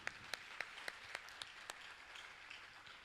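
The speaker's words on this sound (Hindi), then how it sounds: "आइए जोरदार ताली बजाकर उनका सम्मान करें" Applause from an audience at a religious discourse event, faint and sparse, with several distinct claps early and a soft, diffuse patter trailing off.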